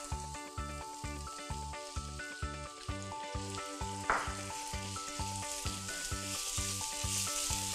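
Minced pork with pepper frying in a pan for a Thai basil stir-fry with crispy century egg, a steady close sizzle that runs continuously beneath a rhythmic backing track.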